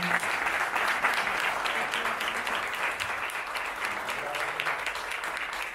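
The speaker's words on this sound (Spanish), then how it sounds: "pido a la audiencia un fuerte aplauso para Bernardo Jurado." A studio audience applauds a guest at a Spanish-language talk show, a dense, steady clapping that holds at full strength for several seconds with no voices over it.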